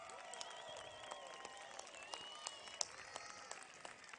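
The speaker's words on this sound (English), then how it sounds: "Ladies and gentlemen, please give these students a warm round of applause." Audience applauding graduating students at an 8th grade promotion ceremony, a faint, steady patter of many hands heard from a distance.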